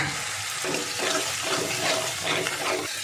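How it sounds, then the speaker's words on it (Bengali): Water is added to spice paste in a hot pan while cooking pointed gourd with prawns, a steady close hiss and bubbling splash lasting the whole few seconds, with no voices. "2-3 চামচ মতো জল দিয়ে দেবো, দিয়ে মশলাটা ভালো করে কষাবো।"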